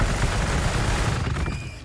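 Gunfire crackles in the strategy game Warhammer 40k: Gladius, a dense, loud burst of rapid shots rolling together for about two seconds before thinning out slightly, with no talk over it.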